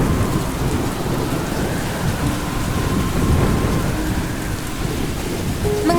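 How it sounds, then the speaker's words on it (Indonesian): Heavy rain pours steadily onto surfaces while thunder rumbles low and continuously beneath it, a dense, loud storm wash with no voices. "Akan turun hujan deras."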